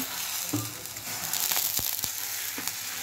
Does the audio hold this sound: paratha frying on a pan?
yes